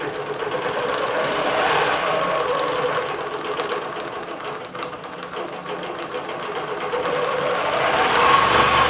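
A computerized quilting machine stitches a lap quilt, giving off a steady, continuous mechanical whir with fast repetitive needle clatter that runs the whole time at an even, moderately loud level.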